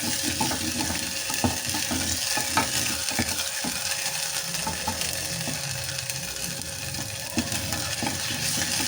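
Peeled medium tomatoes frying with already-fried garlic and ginger in a pan, giving a steady, close sizzle with scattered crackles and spoon or spatula scrapes, no voices.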